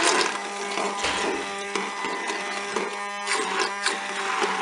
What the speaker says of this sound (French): Eh bien, je vais mixer directement dans la cuve.